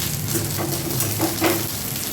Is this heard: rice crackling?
yes